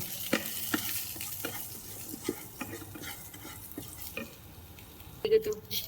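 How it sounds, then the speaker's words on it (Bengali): Green chilies fry in a little oil in a home kitchen pan, giving a low steady sizzle. A utensil stirs and scrapes in sharp clicks at irregular intervals, with a louder clatter near the end. "সামান্য একটু তেল দিচ্ছি যাতে লঙ্কাটা একটু ভাজতে পারি"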